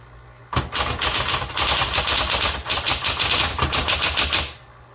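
Fast typing on a 1960s Smith Corona Coronet Electric typewriter: a close, loud, steady run of rapid mechanical key strikes and clacks lasting about four seconds, with no talking.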